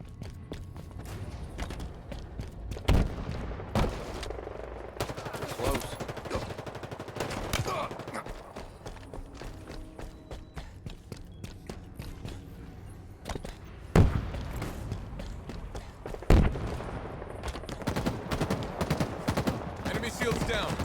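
Gunfire from weapons in the video game Halo Infinite, with rapid bursts and repeated sharp shots over a continuous stretch, several heavier blasts among them, and occasional in-game voice lines under the shooting.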